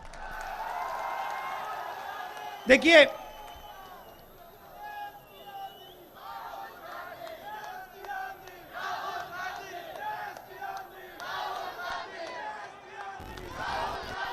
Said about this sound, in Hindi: अब भैया, अब ताली बजाने का टाइम है।